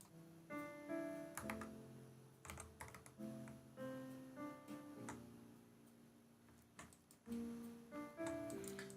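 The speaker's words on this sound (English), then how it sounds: "It's just typing whatever is on the screen for 30 seconds." Fingers type steadily on a computer keyboard in quick bursts of clicks with brief pauses, close and fairly quiet, alongside faint tonal game music.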